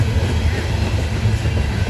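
A Norfolk Southern coal train bound for Lambert's Point Yard rolls past close by, a loud, steady rumble of wagons on rails with faint clattering throughout.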